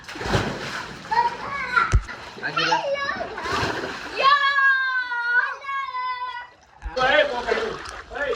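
Water gushes and splashes from an electric water pump that has just been fitted with a new capacitor, running steadily under excited voices of adults and children talking and cheering.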